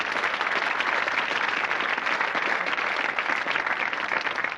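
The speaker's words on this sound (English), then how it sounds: "So a real round of applause and welcome them to the programme." A television game show studio audience applauds steadily and evenly as contestants are welcomed, a dense continuous wash of clapping with no voices.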